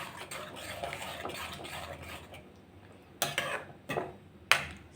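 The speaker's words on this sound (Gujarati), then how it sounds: "અને આ બધાને હલાવી લેવાનું છે." A spoon stirs spiced potato curry with tamarind in a pan, with soft scraping and clinks near at hand, then a few sharper metallic knocks toward the end.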